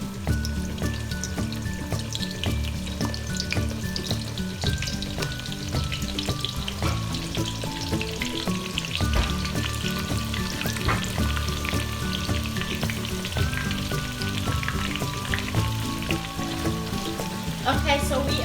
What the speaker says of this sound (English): we are going to fry the onions all the way until it's like nearly brown